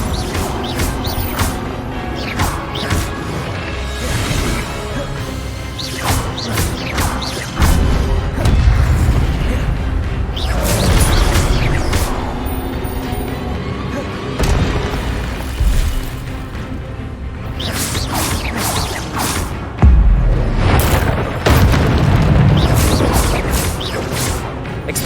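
Fire spells and blasts from the video game Hogwarts Legacy boom and crash in repeated loud bursts, with heavy low impacts every few seconds layered over a constant busy rumble of game sound.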